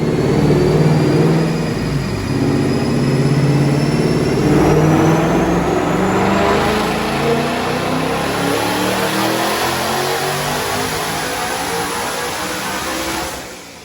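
A twin-turbo 5-liter Coyote V8 in a 2021 Mustang roars on a dyno at high boost, a loud, sustained wide-open pull with rising pitch and turbo whine before cutting off at the end.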